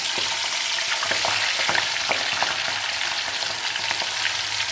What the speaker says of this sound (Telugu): ఇప్పుడు చక్కగా ఈ నూనెలో వేద్దామండి కొంచెం వేడి నూనె కదా